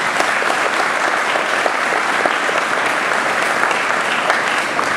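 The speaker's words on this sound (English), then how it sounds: "give a quick round of applause for Joe here real quick." A room of attendees at student game project presentations claps steadily for a presenter, a loud, even burst of applause with no break.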